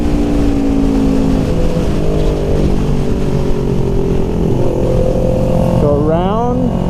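A motorcycle on a race track runs loud and steady, its engine note holding then dropping through gear changes, with a rising rev sweep near the end as it downshifts; the engine dominates throughout.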